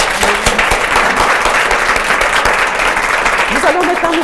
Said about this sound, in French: Et là, ça mérite des applaudissements encore.